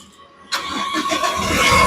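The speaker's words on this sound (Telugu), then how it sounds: "ఈ కారు సింగిల్ సెల్ఫ్లో స్టార్ట్ అవుతుందా లేదా అన్న చూపిస్తున్నాను" A 2018 Toyota Innova Crysta 2.4 catches on a single crank after a quiet moment, then settles into a steady, close, fairly loud idle.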